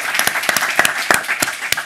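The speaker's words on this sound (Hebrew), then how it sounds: "כפיים לכל מי שעשה במלאכה" A small group claps in loose, uneven bursts, a handful of distinct sharp hand claps close by, repeating irregularly over a couple of seconds.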